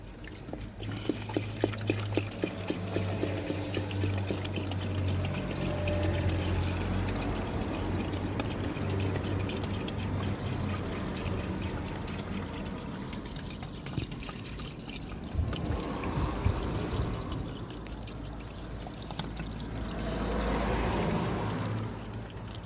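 Water pours steadily into the screen wash reservoir of a Mercedes S430, a continuous close trickle and gurgle lasting about twenty seconds with brief splashes, no talking.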